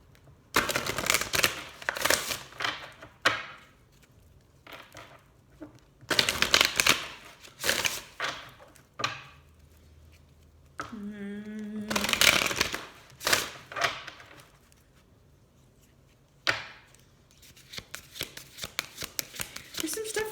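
Oracle cards riffle and flutter in repeated shuffling bursts, close and crisp, with short pauses and a brief sliding swish midway; soft talking is heard between shuffles.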